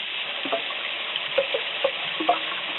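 Ground meat frying in a pan for a Rotel dip, a steady close sizzle punctuated by several scraping, breaking-up strokes of a spatula, moderately loud and free of talk.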